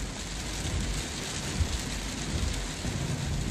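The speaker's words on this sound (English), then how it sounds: "The sound of the rain tapping against the car and the droplets dancing in the street lights" Steady, dense rain patters against a car, a constant wash of drops with a low rumble underneath and no pauses.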